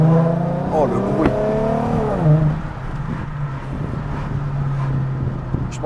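A hybrid car using a Nissan 350Z engine revs loudly nearby, its pitch climbing and falling before settling into a steady idle, with wind buffeting the microphone.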